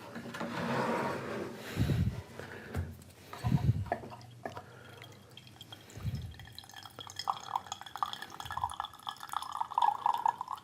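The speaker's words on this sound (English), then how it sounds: "Okay, so let's pour us a glass." Sweet potato bourbon is poured into a glass in a few short splashing bursts separated by pauses, with faint trickling and a light glassy ring toward the end, fairly quiet.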